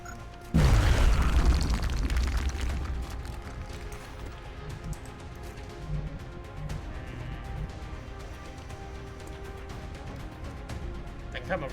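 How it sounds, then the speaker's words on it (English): A grenade goes off in the turn-based strategy game XCOM: Enemy Within, one loud booming explosion near the start that decays into rumbling debris and lingering battlefield ambience. "Throwing grenade."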